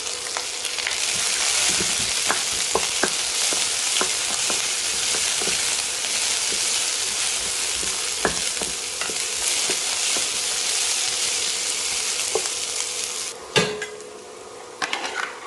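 Sliced onions, cut into long strips, fry with a steady loud sizzle in a pan while a utensil stirs them, with scattered metallic scrapes and clinks against the pan throughout; no talking.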